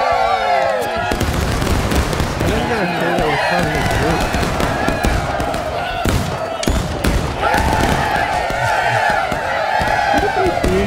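Muskets fire in ragged volleys in a Civil War battle game with the 8th Alabama, loud cracks and rolling reports under excited shouted commands and voices of players.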